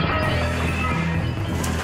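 Ten glass windows smashed by a giant spiky mace make a dense, loud, continuous crash of shattering glass with no voices.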